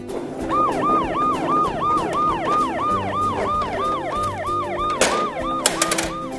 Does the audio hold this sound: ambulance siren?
yes